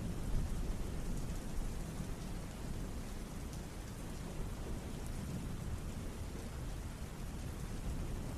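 Steady ambient rain with rolling thunder, a constant dense hiss of falling drops over deep low rumbles, soft and even for the whole stretch with no voices.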